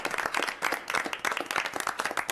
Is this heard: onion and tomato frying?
no